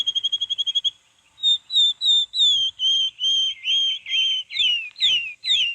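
A bird whistles clearly, starting with a quick trill and then a steady run of about a dozen bright, sliding whistled notes, close and alone.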